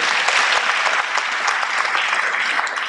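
An audience applauds steadily for a few seconds, a dense even patter of many hands clapping at a talk, with no voices over it.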